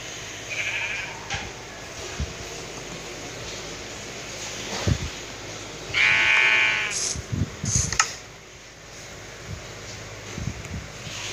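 Sheep bleating in a video game, a couple of distinct bleats, one short and one longer and louder, heard alone over a quiet background with occasional soft thumps.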